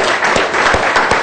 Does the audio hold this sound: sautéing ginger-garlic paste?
no